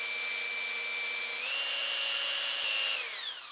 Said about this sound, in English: We'll put it into the drill.